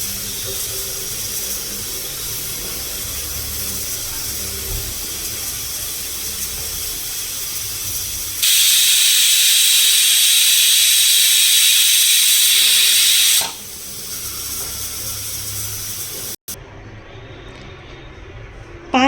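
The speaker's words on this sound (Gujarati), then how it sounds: "હવે આપણે કુકરનું ઢાંકણું બંધ કરી અને તેને 5 થી 6 વિસલ થવા દઈશું" Pressure cooker of pea and potato curry venting steam: a steady broadband hiss that swells into a loud, harsh whistle-like burst mid-way, then drops back to a quieter hiss before a short break; no talking.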